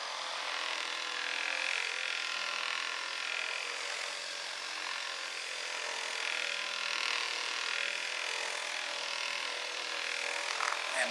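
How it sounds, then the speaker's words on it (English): A terry cloth buffing wheel spins against wood, giving a continuous, fairly loud, bright rubbing whir that stays steady for about eleven seconds, with slight swells and no talk. "Let's see what this terry cloth buffing wheel actually will do."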